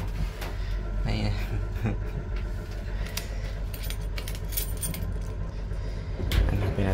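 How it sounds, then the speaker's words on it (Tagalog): Hotel room keys jangle and clink in a busy room in Tan Binh, Ho Chi Minh City, a steady metallic rattle over constant low background hum, with a louder knock near the end. "Ayan, susi natin."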